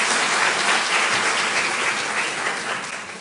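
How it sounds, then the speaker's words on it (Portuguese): Audience applause at a debate event, loud continuous clapping from a crowd that fades slightly toward the end. "na pessoa da irmã Puti, uma salva de palmas e agradecimento."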